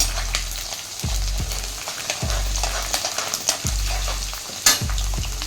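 Garlic cloves fry in hot oil in a pan for puliyotharai tamarind paste, giving a constant bright sizzle. Regular low thumps of stirring recur about once a second, close and loud.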